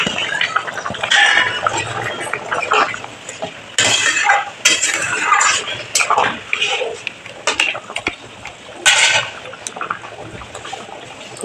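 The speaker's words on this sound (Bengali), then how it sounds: "এবার মাছগুলোকে দিয়ে দেবো" Shrimp go into a pot of simmering bottle gourd curry with lentil dumplings and green chillies, bringing close, uneven clinks and scrapes of a utensil against the pot and some soft stirring.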